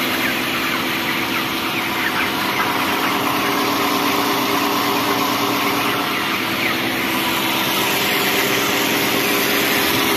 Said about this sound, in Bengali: মেশিনটা যখনই পানি দিবে তখন অন হবে, এরপর অটো বন্ধ।